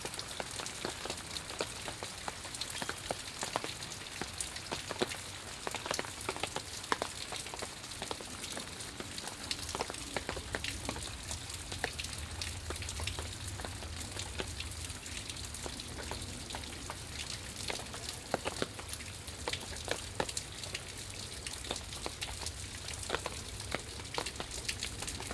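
Rain falls steadily outdoors in Baltimore, a soft continuous patter with scattered sharper drops, fairly faint and even throughout, with a low rumble in the background for a stretch.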